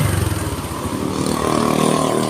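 A carbureted motorcycle that starts hard in the morning, with a mis-set carburetor and fouling spark plugs, runs close by with a rough, uneven, loud engine rumble throughout.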